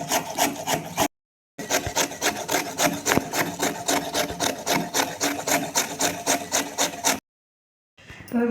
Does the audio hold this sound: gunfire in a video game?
no